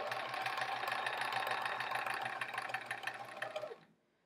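A sewing machine stitching fabric for a quilt block's sashing, a steady fast mechanical whirring with a regular knocking rhythm, close and continuous, slowing and stopping near the end.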